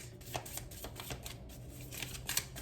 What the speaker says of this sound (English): So let's get some oracle cards